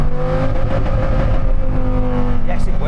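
A Dodge Viper accelerates hard in first gear, its engine note loud and close, building steadily in pitch as the revs climb with no gear change, under a running in-car voice.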